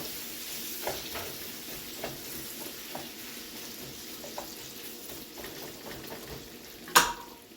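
Apples cook in butter in a pan on low heat, giving a soft steady sizzle with occasional light stirring taps and one sharper utensil clink near the end.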